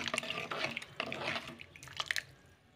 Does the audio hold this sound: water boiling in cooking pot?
yes